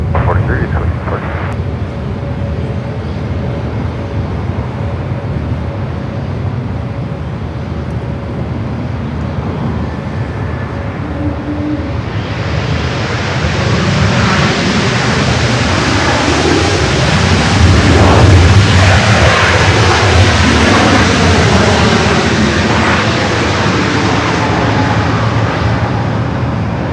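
An Iberia Airbus A350-900 arriving from Madrid lands on runway 24 right at LAX, its jet roar rising midway and building into a loud rush before holding steady.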